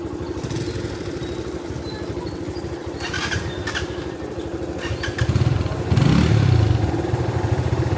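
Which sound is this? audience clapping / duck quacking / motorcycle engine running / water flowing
motorcycle engine running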